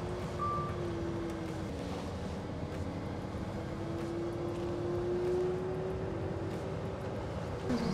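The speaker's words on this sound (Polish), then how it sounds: "No dobrze, czyli musimy się coś cofać." A truck backing up in a tight, crowded lot of parked trucks and trailers on an icy surface, its steady reversing beeps sounding over a constant engine rumble, moderately close and without talk.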